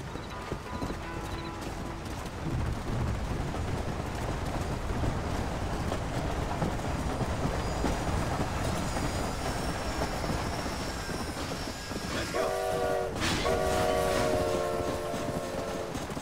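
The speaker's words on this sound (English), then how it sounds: "Gotta wait for that train." Train rolling past in the Red Dead Redemption video game, with steady rumbling and clattering wheels and horse hooves nearby, then a sustained horn sounding loudly toward the end.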